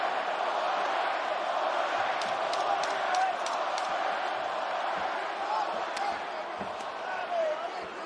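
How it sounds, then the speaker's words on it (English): A pro-Masvidal arena crowd at an MMA fight late in the round, a steady dense roar of cheering and chanting with a few sharp thuds, under continuous commentary. "Pro Masvidal crowd voicing their support late in the round."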